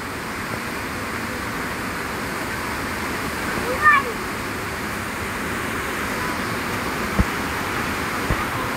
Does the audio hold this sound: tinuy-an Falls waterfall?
yes